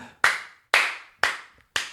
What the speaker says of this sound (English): What's that clap for?